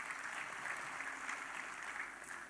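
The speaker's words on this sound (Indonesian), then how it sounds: "Tepuk tangan buat Tuhan Yesus" Faint, distant applause from a church congregation during a sermon, a steady even wash of clapping with no voices on top.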